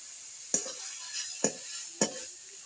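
A spoon stirs a milk and sugar filling in a pan, three sharp scraping clicks against the metal over a soft steady hiss, close and fairly quiet.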